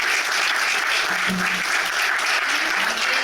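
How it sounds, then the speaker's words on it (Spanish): Steady audience applause from a crowd at a Spanish-language book presentation, dense, even clapping filling the whole stretch at a constant level. "Pido un aplauso para él"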